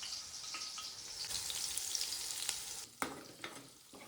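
Chillies and salt fry in a pan for khichdi, giving a close, steady sizzle with a few sharp stirring clatters near the end.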